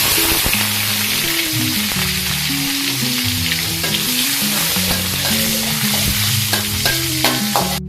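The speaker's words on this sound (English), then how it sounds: "I'm going to fry the anchovies first" Anchovies fry loudly in a pan of hot oil, a dense continuous sizzle with scattered crackles and pops, while a utensil stirs and scrapes through them steadily for the whole stretch.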